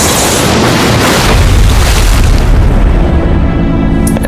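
A massive boom from a lightning strike on a fishing boat, a loud, dense, sustained blast filling the whole moment at close range and decaying slowly.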